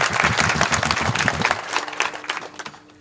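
An audience claps steadily at a devotional week-long saptah gathering, dense applause that fills the first half and then thins into scattered claps as it fades out.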